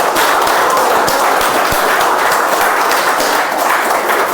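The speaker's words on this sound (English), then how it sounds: "Let's welcome with a huge round of applause" Dense, sustained round of applause from a room of people at a Toastmasters club meeting, steady and loud throughout with many overlapping claps.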